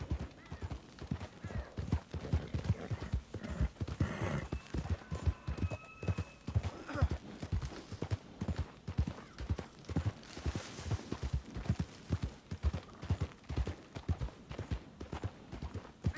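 Horse hooves clip-clop steadily through the whole stretch in Red Dead Redemption 2, a continuous even rhythm of close, moderately loud steps with brief whinny-like tones partway through and no talking.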